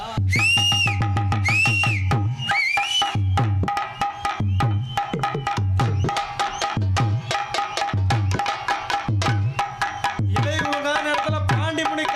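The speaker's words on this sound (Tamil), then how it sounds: "விசில் அடிங்க ஆண்கள்லாம்" Men at a dawn village kummi dance blow loud, sharp rising whistles in quick pairs, then again near the end, over a steady drum-driven festival beat. The whistling is close and prominent, and no one speaks.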